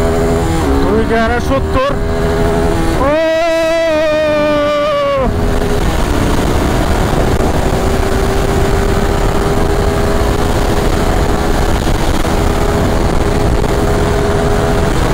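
A Suzuki Gixxer motorcycle engine turns over, catches and revs up before settling into a loud, steady idle close by, with a voice speaking briefly at the start.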